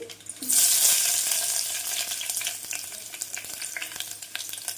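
Onion pieces hit hot oil with dried red chillies for a Nellore-style dal tempering, setting off a sudden loud sizzle that settles into a steady close crackling hiss.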